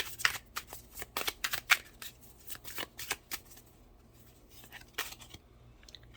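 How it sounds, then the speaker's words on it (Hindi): Tarot cards are shuffled and drawn by hand at close range, a soft run of quick riffling and flicking bursts with brief pauses between them and no voice. "मैं लास्ट कार्ड निकालूंगी"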